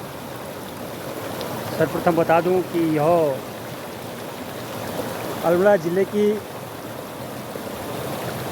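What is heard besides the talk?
river flowing, stream water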